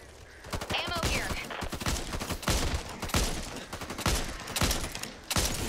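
Desert Eagle pistol fire in the co-op shooter Back 4 Blood, a run of sharp, loud shots spaced irregularly over dense game noise and background chatter.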